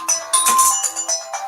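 A phone's ringtone rings out, a bright repeating electronic melody in several bursts over about a second and a half, close and fairly loud with no voices over it.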